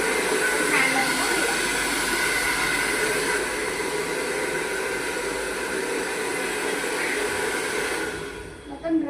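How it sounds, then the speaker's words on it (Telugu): A hair dryer blows steadily over skin freshly cleaned after waxing, making a loud, continuous whoosh. It cuts off just before the end. "డ్రైయర్ తోటి మనం ఇట్లా డ్రై చేసుకోవాలి"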